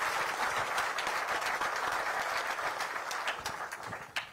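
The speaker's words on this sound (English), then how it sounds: "Please, let's put our hands together for a round of applause." A conference audience at an investment forum gives the panelists a sustained round of applause, dense clapping that thins toward the end with a few isolated claps.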